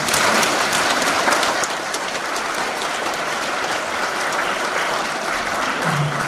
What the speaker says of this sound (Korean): 박수로 우리 목사님.